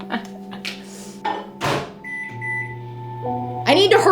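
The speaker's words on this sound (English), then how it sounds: "So I'm quickly warming it in the microwave." A microwave oven hums steadily while warming a bowl of chocolate, with clunks of the door and a few beeps, and a voice briefly speaking near the end.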